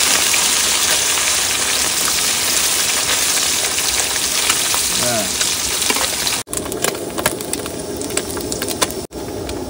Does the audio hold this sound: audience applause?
no